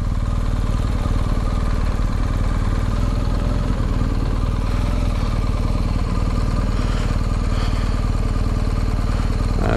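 A BMW R 1250 GS motorcycle from the 2020 or 2021 model year sits idling, its boxer engine holding a steady, even low rumble with a faint mechanical clatter for the whole stretch, close by and with no voices over it.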